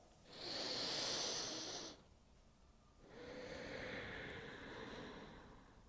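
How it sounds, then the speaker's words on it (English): Two slow, deep breaths close to the mic in a quiet room, a long airy inhale followed after a pause by a longer, softer exhale with a hissing rush. "Let's take last 2 deep breaths."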